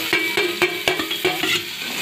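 Chopped ginger, garlic and green chilli stirred in a hot kadai, with a sizzle and a run of regular scraping, clattering stirring strokes roughly every quarter second, close and moderately loud, with no talking.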